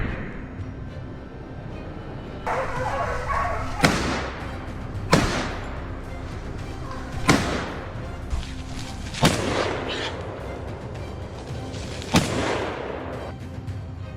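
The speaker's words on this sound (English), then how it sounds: "I tracked it with the rifle, calculating speed and distance, then fired." Five sharp rifle shots crack out one by one, each a few seconds apart, loud and echoing over a low rumbling background, during a wild boar hunt.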